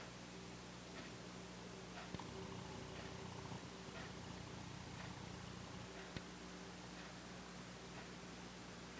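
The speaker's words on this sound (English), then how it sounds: "It's Amy's cat," A cat purrs close by, a soft, steady, continuous rumble with a faint hiss behind it and one or two small clicks. No one speaks.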